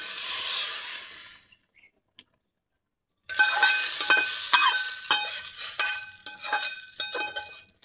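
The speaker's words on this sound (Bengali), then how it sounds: "আর এই তড়কা এখন ঢেলে দেবো এর ভিতরে" Hot tadka poured into a lentil-dumpling and potato dal: a burst of hiss, a short near-silent pause, then loud crackling sizzle with sharp pops that keeps bubbling to the end.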